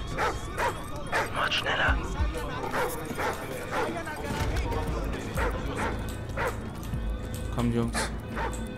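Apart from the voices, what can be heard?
dog barking and whimpering in video game Call of Duty: Ghosts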